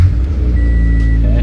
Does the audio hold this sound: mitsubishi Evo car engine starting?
yes